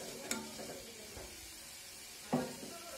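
Chicken stew with vegetables gets stirred in a pot: a faint, quiet simmer broken by two distinct spoon knocks against the side of the pot, with soft scraping between them.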